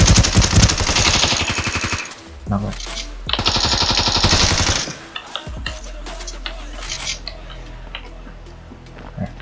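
Automatic gunfire from the video game Ring of Elysium comes in two dense, rapid bursts, then scattered shots trail off into quieter clicks, with voices talking over the action.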